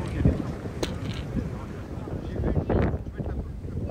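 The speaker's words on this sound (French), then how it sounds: "il y a beaucoup de vent ce matin" Gusty wind buffets the microphone outdoors on a golf course, a steady low rumble with brief louder surges, and faint voices in the background.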